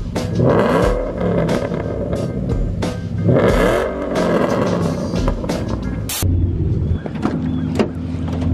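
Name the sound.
Mustang race car engine revving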